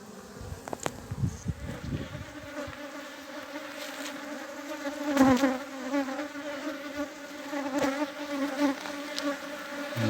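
Honeybees from a newly hived swarm buzz steadily and densely around an open hive box during an inspection, loud and close, with individual bees droning past and a few brief handling knocks.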